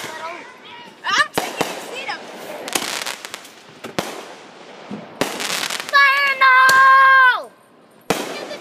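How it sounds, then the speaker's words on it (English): Firecrackers and fireworks go off outdoors near a lake, giving several sharp close bangs and cracks, with a whistling rising tone near the end. People talk and react between the blasts. "That was one firecracker."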